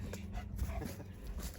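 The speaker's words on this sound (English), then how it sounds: "And befriended my neighbour's dog, Bella." Bella, a neighbour's dog in a garden in Croatia, gives close, soft whimpers and panting breaths over a brief moment.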